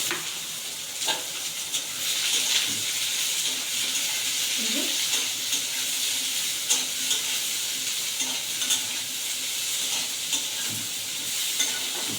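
Carrots tossed into hot oil in a wok for masala momo filling, giving a steady close sizzle and frying hiss with stirring scrapes throughout, no talk.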